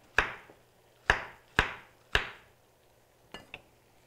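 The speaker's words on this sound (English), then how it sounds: "And I'll start slicing these bananas." A knife slices bananas on a cutting board for Bananas Foster bread pudding: four sharp, close chops at uneven intervals, followed by two fainter taps.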